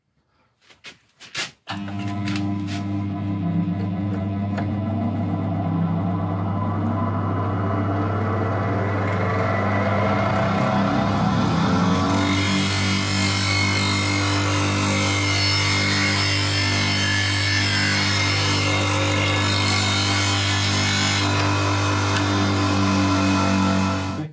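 A bench grinder sharpening the bevel of a woodturning bowl gouge: the motor spins up with a steady hum, then a continuous loud gritty grinding rasp of steel against the wheel runs unbroken for over twenty seconds.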